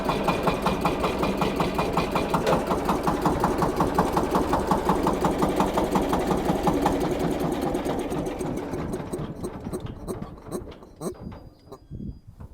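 Shifeng 244BF mini tractor with four-wheel drive and belt drive idling close by with a steady, rapid knocking chug, then the engine is switched off and sputters down to a stop near the end.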